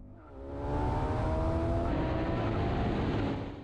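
A Ford Mustang V8 and a Mini with a Hayabusa motorcycle engine launching in a drag race, a loud engine roar swelling in after a brief quiet and holding steady, heard at moderate distance without talk.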